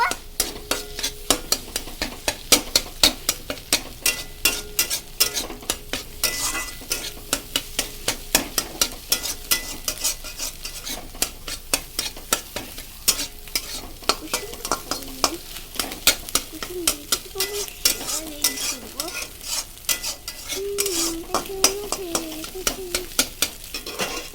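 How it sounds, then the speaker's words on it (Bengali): An egg fries in salted oil in a pan, giving a steady close sizzle broken by a rhythmic clatter of stirring and scraping throughout, with no voices. "আমাদের ডিম ভাজা হয়ে গেছে।"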